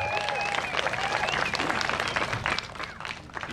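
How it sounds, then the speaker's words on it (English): A crowd at a Juja South Estate open day claps for the company's CEO, a dense burst of applause with a few voices and whistle-like tones over it that thins out toward the end. "Please let's clap for her."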